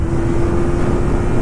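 A Kawasaki ZX-25R motorcycle engine holds high revs near 10,000 RPM, a loud continuous droning roar with a steady whine and wind rush, heard for just over a second.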